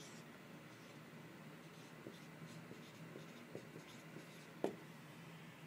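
Pen writing on paper during a chemistry lecture on solving NMR spectra: faint, scattered scratchy strokes against a quiet room, ending in a sharper tap near the close.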